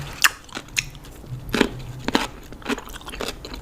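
Crisp crunchy bites and chewing of a pickled cucumber side dish, several sharp crunches spaced over a few seconds, close to the mouth and without talk.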